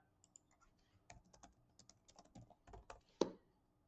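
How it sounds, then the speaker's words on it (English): Keys clatter in short uneven bursts on a computer keyboard as a name and email address are typed, quiet and close, with one sharper key strike near the end. "I'm just going to go ahead and type in my name and then my email address"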